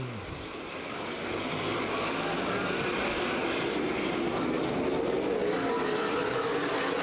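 CRA Super Series stock cars race under green flag at Anderson Speedway, their engines blending into a steady, sustained roar that builds slightly after the first second and holds at a moderate distance.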